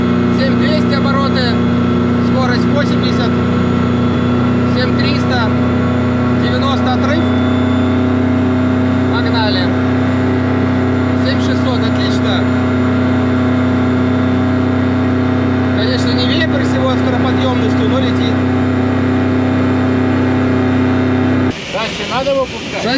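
Engine of a motor glider running steadily in flight, a loud constant droning hum with a fixed pitch that continues throughout while someone speaks over it, then cuts off at the end.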